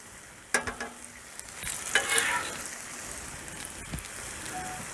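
Onions and bacon sizzling on a Blackstone griddle, a steady crackling fry under a few sharp metal spatula scrapes and clinks, close and moderately loud, with no talking.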